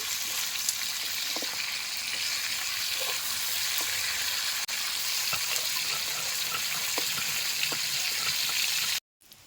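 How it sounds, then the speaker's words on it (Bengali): Tiger prawns fry in hot oil in a home kitchen with a steady, even sizzle and scattered small crackles, running unbroken for about nine seconds before cutting out abruptly; no one speaks. "চিংড়ি মাছটা আমার ভাজা হয়ে গেছে"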